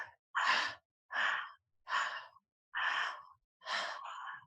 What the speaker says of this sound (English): we're going to take teeny tiny breaths, but we're just going to connect the inhale to the exhale